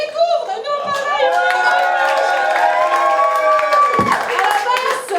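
A concert crowd in Bouaye, France, claps and cheers for a musician named Fali, a steady wash of applause mixed with voices and sustained tonal sound that dips briefly near the end.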